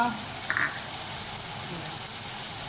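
Spices such as red chili, salt, turmeric, coriander and cumin frying in a pan for chana daal: a steady, close sizzle with a continuous crackling hiss throughout.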